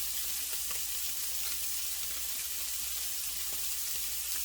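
Scallops searing in a hot cast iron pan, an even, dense sizzle holding steady throughout at moderate level, with no talking.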